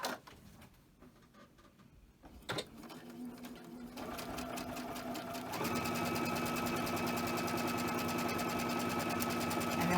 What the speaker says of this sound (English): so let's sew these two here